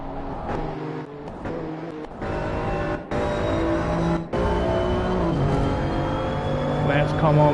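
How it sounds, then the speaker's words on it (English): The number 5 BMW race car in a BMW-only series at Watkins Glen drones steadily as its engine winds up for a lap, with pitch steps between gears and a continuous roar close to the microphone. "As we're now watching the number 5 BMW make their way around, winding up to start their lap"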